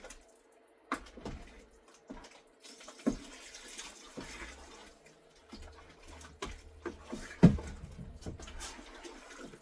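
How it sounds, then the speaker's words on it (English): Hot water poured from a jug into plaster for damp boxes to slow the drying of pottery, a soft intermittent trickle and splash with scattered knocks and clunks, fairly quiet and close, no talking. "I'm doing more, so I added more hot water"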